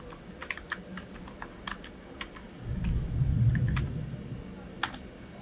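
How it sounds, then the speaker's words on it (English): Quick light clicks of a computer keyboard as a password is typed, close and clear in short uneven bursts, with a low rumble of background noise swelling midway. "So I'm just going to type in the password"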